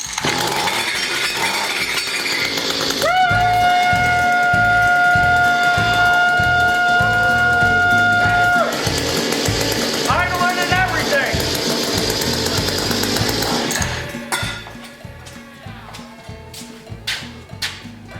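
A small mini tiller engine starts and runs at wide-open throttle, a loud continuous buzzing roar with a sustained whine that later drops and becomes rougher, with someone speaking over it.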